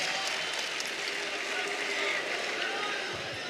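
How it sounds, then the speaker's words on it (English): A college wrestling crowd at Cassell Coliseum, Virginia Tech, cheering and applauding in a steady, dense roar that fills the arena, with a commentator's voice talking over it. "the right side of the crowd at Castle's getting into it"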